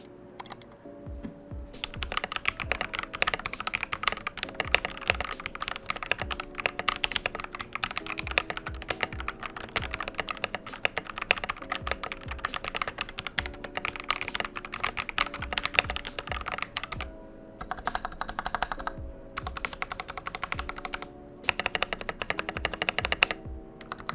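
Typing on a GamaKay LK67 mechanical keyboard with Akko Starfish switches, WoB ASA keycaps and foam inside, a dense run of crisp, muted key clacks in quick irregular rhythm, close-miked, with brief pauses near the end.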